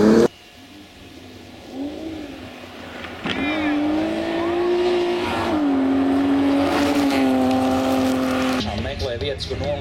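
A Subaru rally car at full throttle on a gravel stage at the Talsi minirally, its engine climbing and holding a loud, strained note after a brief lull before cutting off abruptly.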